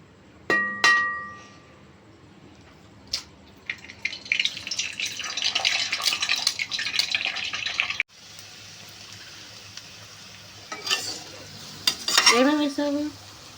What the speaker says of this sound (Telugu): క్యారెట్, ఆనియన్స్, మిర్చి, ఎగ్ వేసి మిక్స్ చేసాం